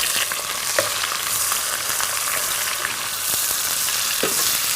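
Onions frying steadily in a pan for a natukodi pulav, a dense continuous sizzle with a few sharper crackles and stirring scrapes, close and fairly loud, no voices.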